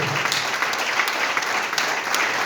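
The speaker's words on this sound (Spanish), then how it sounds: "Aplauda al que vive, amén." A church congregation claps together during a Spanish-language sermon, a steady, dense wash of applause that holds at an even level from start to finish with no break.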